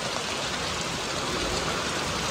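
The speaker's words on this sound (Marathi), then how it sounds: "पुन्हा एकदा पावसाने जोरदार वादळी वाऱ्यासह आगमन केलेलं आहे" Steady dense hiss of heavy monsoon rain, likely driven by stormy wind, fills the whole stretch evenly and loudly with no voices.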